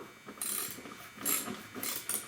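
A hand ratchet clicks rapidly in several short bursts while snugging down bolts on a Hooker show bar being installed in a Camaro, close and clear with brief pauses between strokes.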